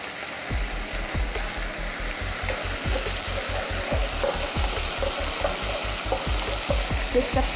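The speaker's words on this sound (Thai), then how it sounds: "คั่วพริกกระเทียมของเราให้หอมก่อนเลยนะคะ" Chilli and garlic stir-frying in a pan for a Thai basil pork ball dish, a loud steady sizzle with rhythmic scraping and tapping of a spatula stirring against the pan, no speech.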